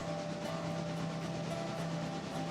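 Train rolling on rails in a train simulation video game, a faint steady rumble with a low sustained hum and soft rhythmic clicks, no speech.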